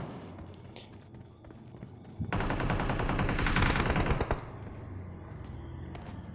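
Gunfire in the video game PUBG: a dense burst of rapid automatic shots lasting about two seconds, loud and close, set against quieter game ambience.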